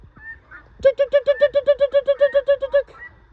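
A guinea fowl honks in a rapid, regular series of about fifteen harsh, nasal calls, close and loud, with a few softer calls before and after.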